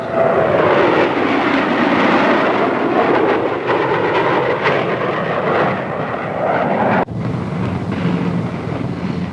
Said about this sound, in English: Four-ship formation coming in over the field, being led by the B-49, B-47, 45, and the F-86.